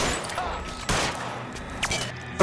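A brief burst of gunfire in the L.A. Noire video game: several sharp, loud shots spread across a couple of seconds over game background noise.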